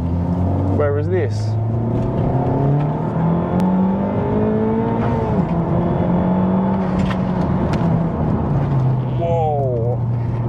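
A Honda Civic Type R FK8 engine drones and rises in pitch through gear changes while driving, a continuous loud cabin hum with sweeping revs, as someone talks over it.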